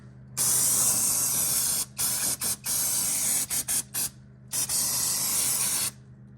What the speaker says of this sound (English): look how much of this crap will come off when I spray